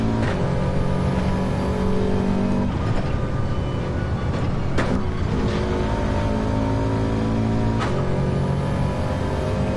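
A race car engine in Gran Turismo 7 revs and drones loudly after a downshift, the pitch rising and falling through several shifts without a break.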